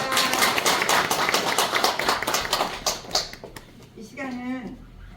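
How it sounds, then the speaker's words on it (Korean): Seminar attendees in Incheon give a burst of clapping that fades out after a few seconds, followed by a person beginning to speak. "박수 한번 부탁드립니다."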